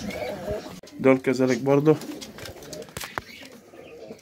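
Absi pigeons give deep, rolling coos in a short burst close by, with someone speaking before and after the cooing.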